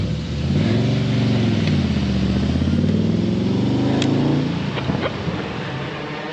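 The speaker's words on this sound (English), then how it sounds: "I hope you heard that V8 engine just to prove a point." A Holden Commodore V8 passes on a street near Port Adelaide, its deep throbbing engine note swelling and shifting in pitch as it goes by, loud and close, then fading away.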